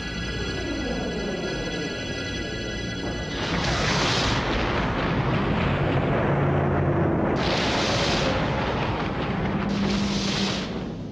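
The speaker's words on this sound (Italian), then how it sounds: "L'esplosione, equivalente a 50 milioni di bombe atomiche come quella di Hiroshima, ha generato un'immensa nube di polvere" A documentary sound effect of a 10-km-wide asteroid striking Earth: a massive, sustained rumbling roar that swells after a few seconds, with repeated heavy blasts layered on a continuous low thunder and no talking.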